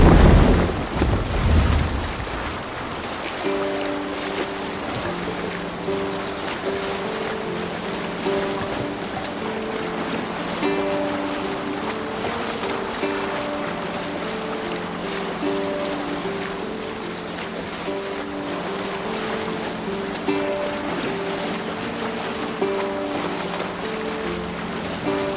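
Sailing ship at sea in Assassin's Creed Valhalla: steady wind and wave wash with creaking hull beneath a droning, rhythmic musical score, continuous throughout.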